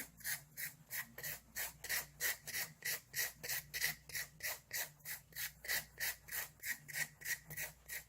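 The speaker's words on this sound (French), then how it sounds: "une lime Blizzard qui est faite spécifiquement pour le gel. Et je vais tout simplement limer pour faire la finition." A Blizzard nail file rasps over gel nails in a fast, even back-and-forth rhythm, some two dozen close, crisp strokes with no talking.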